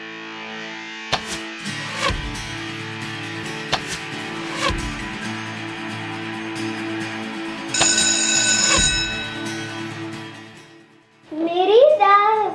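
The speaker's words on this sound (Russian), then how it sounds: "Мирида, звонок." A school bell rings loudly and steadily for about ten seconds with a few clicks over it, then fades out as a voice starts speaking.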